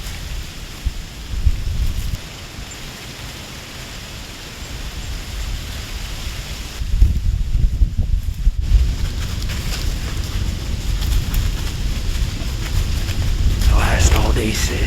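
Strong wind buffets the microphone, producing steady low rumbling gusts that swell louder partway through, with faint rustling on top.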